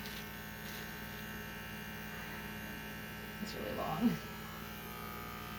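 Electric clippers trimming hair and a beard give a steady, low buzzing hum the whole way through, with people talking over it and a slight swell near the end.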